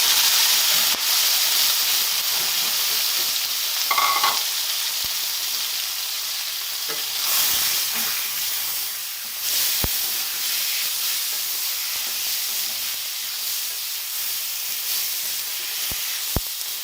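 Chicken fries in hot oil with cinnamon, star anise, whole chilies and cloves for a bitter gourd curry. A steady hissing sizzle runs throughout, with occasional clinks and stirring knocks. Nobody talks.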